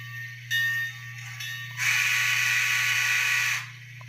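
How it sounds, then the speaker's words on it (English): Steam whistle from a sound decoder in an N scale Bachmann Consolidation model, a couple of short toots followed by one long sustained blast lasting nearly two seconds, over a constant low hum. "That's a long whistle."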